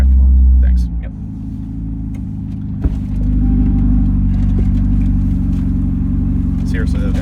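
A Corvette ZR1X with the ZTK package rolls forward, its engine holding a steady low rumble that dips briefly and then swells back, with faint voices in the background.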